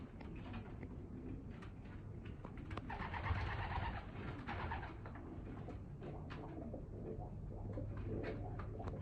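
Racing pigeons coo in low, rolling murmurs, several birds overlapping steadily with faint rustling and a few chirps nearby.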